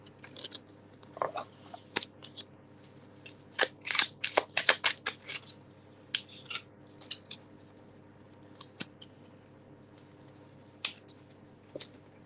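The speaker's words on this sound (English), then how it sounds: "Sab, I'm just going to shuffle my cards and see what comes out for you, darling." Tarot cards being shuffled by hand: bursts of crisp riffling and snapping clicks, denser in the middle, then sparser taps, close and fairly quiet with no talking.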